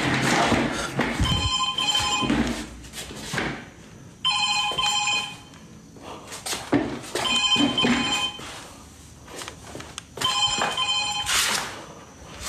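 An old telephone rings in repeated bursts, about four rings with quiet gaps between them, inside an old British-era bungalow in Kuala Lumpur during a paranormal investigation. Some thumps and room noise are heard between the rings.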